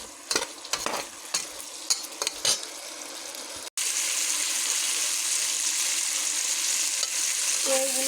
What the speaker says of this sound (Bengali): আলুগুলো লাল লাল করে ভাজা হয়ে গেছে, সাথে পেঁয়াজ রসুনও ভাজা হয়ে গেছে।